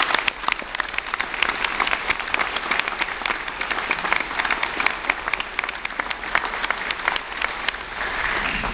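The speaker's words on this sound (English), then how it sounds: "let's give him a round of applause" Sustained applause from a crowd at a bridge groundbreaking ceremony, dense steady clapping filling the whole stretch with no speech over it.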